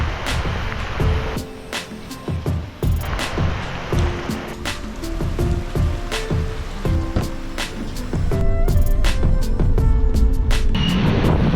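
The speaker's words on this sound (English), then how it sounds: "Rain's coming down pretty heavy." Heavy rain pours steadily on a wet morning in Bali, a dense, continuous hiss of water on surfaces with scattered drips and knocks, growing slightly louder toward the end, with no voices.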